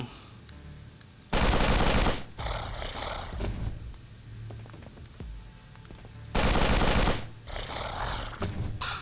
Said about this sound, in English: I'm just gonna use mag rifle on them.